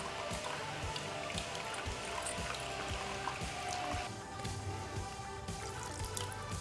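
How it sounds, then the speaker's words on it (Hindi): Homemade paneer is pressed by hand in muslin cloth, and its whey drips and trickles out in close, uneven patters and splashes, with no talking. "हल्के हाथों की मदद से इसको दबा के पानी सारा निचोड़ लेते हैं।"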